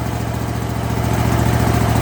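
A Kohler 7000 series engine on a zero turn lawn mower idles steadily and close up, with an even, smooth rhythmic thrum and no surging.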